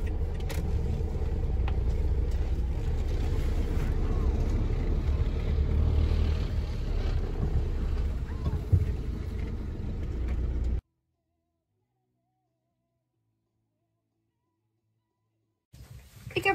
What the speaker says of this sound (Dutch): Chappie staat in de vrachtwagen, klaar om te vertrekken.